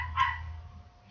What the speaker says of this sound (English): Sorry about the barking, there's a dog here.